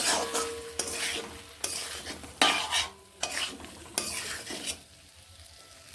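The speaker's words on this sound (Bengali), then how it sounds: "এবার আমি বেশ ভালোভাবে এটিকে কষিয়ে নেব" Potato and pea curry is stir-fried in a pan, with a soft sizzle under repeated scraping and clinking strokes of a utensil against the metal. The strokes come in irregular bursts, close and fairly quiet, with no talk.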